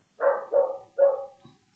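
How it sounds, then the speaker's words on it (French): A dog at home barks at a delivery truck parked across the street: three sharp, close barks in quick succession, then a faint short yip and a brief clipped sound at the end. "il y a toujours les aboiements."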